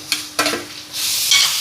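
Ginger garlic paste sautéing in a large pot while cooking a chicken meal for a hundred people, with a few sharp stirring scrapes followed by a steady, bright sizzle.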